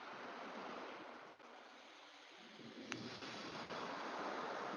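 Ocean waves added as a sound effect to a music remix, a soft, steady surf wash with a faint swell, quiet and continuous throughout.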